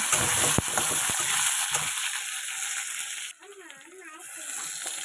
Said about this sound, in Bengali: এবার হচ্ছে আলুগুলো একটু ভেজে নেব।